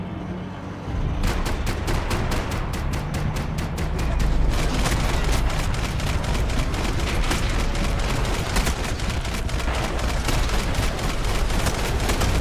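Max Payne 3 video game combat, with sustained loud bursts of rapid gunfire and heavy booming shots rolling on without a break for over ten seconds.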